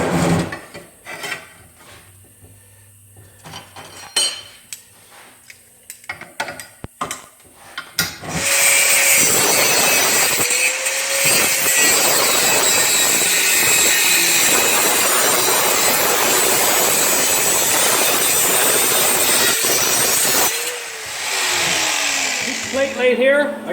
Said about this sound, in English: So I'm going to trim this off now so it's nice and straight.